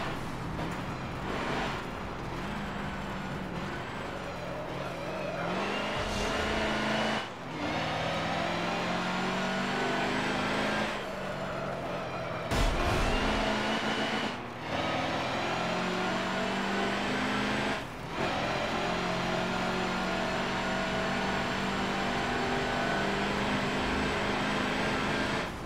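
A truck engine in the racing game Forza Motorsport 7, played on Xbox One S with a steering wheel, revs loudly and steadily, rising and falling through gear shifts with brief dips, no talk over it.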